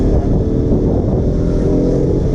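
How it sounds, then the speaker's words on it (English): A KTM RC 125 BS6 motorcycle engine runs while being ridden on the road. A loud, steady, smooth drone continues throughout with a rushing, wind-like wash and no clear gear changes. "The engine is so smooth and much more refined compared to the BS4 model."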